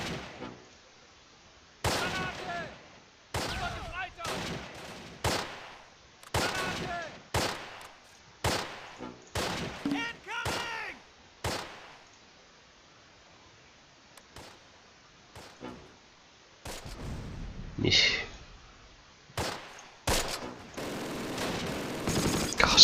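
Repeated bursts of machine gun fire from the WWII video game Close Combat: Last Stand Arnhem, clustered volleys from several guns firing in uneven rhythm with short gaps, fairly loud, plus a scattering of duller distant shots.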